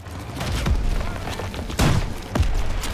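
Explosive blasts from a German rocket launcher firing at a tank in Call of Duty: WW2, three heavy booming hits spread across a constant rumble of battle noise.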